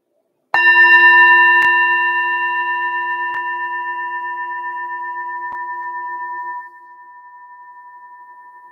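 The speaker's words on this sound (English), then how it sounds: "With this last sound of the ringing, when the bell is struck, simply shift your gaze towards that sound as it fades" A single bell is struck once and rings with a clear, sustained pure tone, its bright overtones slowly decaying into a long, soft hum in otherwise quiet surroundings.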